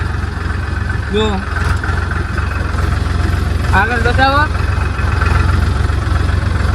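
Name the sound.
tractor engine running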